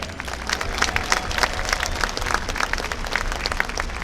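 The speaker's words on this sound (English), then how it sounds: "So let's give a big round of applause to the faculty and staff." An audience at a high school graduation ceremony applauds the faculty and staff, giving a steady round of clapping with sharp individual claps standing out from a moderate crowd wash, sustained throughout without speech.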